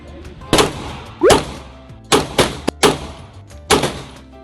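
Gunshots at outdoor target shooting at about 15 yards in Texas, six sharp loud reports spaced irregularly about a second apart, each with a brief echoing tail.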